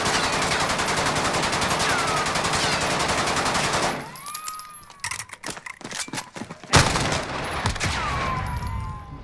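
Rapid SMG bursts from Call of Duty Modern Warfare rattle loudly and close, a sustained stream of shots that breaks into short, choppy bursts before the fire resumes in a long run.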